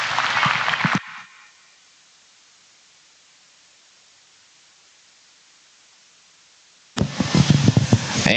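Audience at a market goat showmanship contest claps loudly for about a second, then near silence follows before another burst of applause begins and continues to the end.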